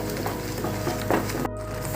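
A mango ladoo mixture with milk is stirred in a pan, giving soft scraping and gentle sizzling with a few louder scrapes before a brief cutoff.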